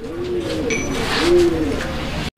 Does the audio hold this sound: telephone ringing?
no